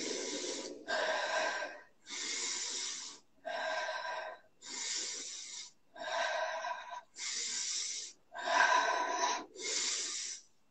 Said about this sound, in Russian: Дыши глубже тогда.